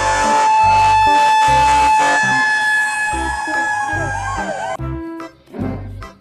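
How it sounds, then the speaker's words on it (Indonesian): A toy fire truck's loud electronic siren wails on and off, with a rhythmic low horn blaring beneath it, close up and toy-like before cutting off. "Ada mobil damkar lagi"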